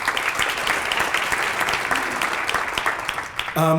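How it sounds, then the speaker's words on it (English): Audience applause at a human rights awards ceremony, a steady dense clapping from a large crowd that fills the moment, ending abruptly as a voice begins. "everyone give Ginger a round of applause."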